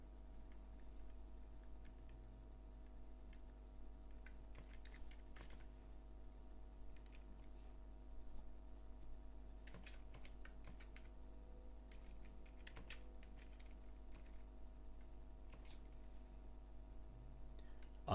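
A program being typed on a computer keyboard: soft, close clicking keystrokes tap out at an irregular pace over a quiet steady hum, with no talking.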